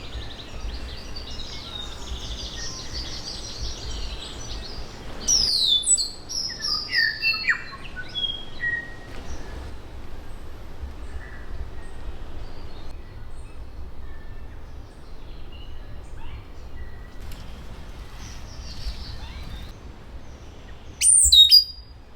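Birds sing and chirp in a New Zealand nature reserve, scattered calls and squawks rising over a quiet outdoor hush, with a louder burst of calls near the end.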